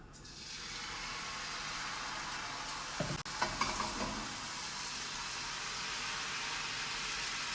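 Swedish pancakes frying in a pan give off a steady, close hiss of sizzling throughout, broken briefly by a few clattering knocks of a utensil partway through.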